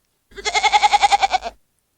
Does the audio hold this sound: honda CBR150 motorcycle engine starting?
no